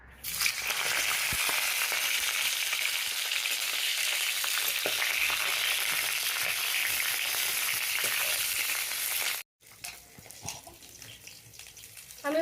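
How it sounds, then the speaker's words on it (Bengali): Cauliflower pieces dropped into hot white oil in a kadai sizzle loudly and steadily for about nine seconds, then the frying noise cuts off abruptly, leaving softer kitchen sounds. "তেল গরম হয়ে গেছে, আমি এবার ফুলকপিগুলো ভেজে নেব।"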